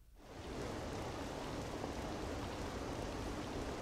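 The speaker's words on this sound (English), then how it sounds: "And it's raining!" Steady rain falls in the Persona 5 video game, a dense, even hiss of drops on surfaces. It fades in within the first half second and then holds constant and moderately loud with no voices.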